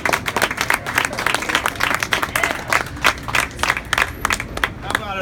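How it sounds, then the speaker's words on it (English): An audience at a city art walk event applauds, dense clapping from a crowd sustained and fairly loud, with some voices mixed in. "How about another round of applause for your great mayor, Mayor Lombardo."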